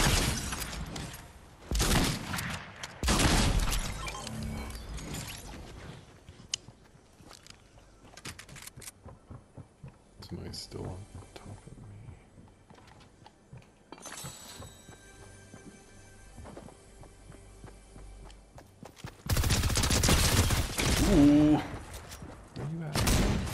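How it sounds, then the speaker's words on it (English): Gunfire in the video game Fortnite comes in loud bursts at the start and end, with scattered shots in between under frequent talk. "Somebody else is shooting at me."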